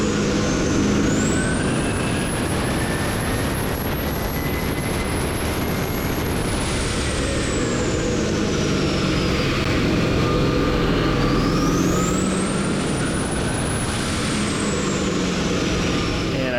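Diesel-powered race vehicle climbing Pikes Peak, loud continuous engine roar with turbo whistle sweeping up and down as it accelerates, close and steady throughout.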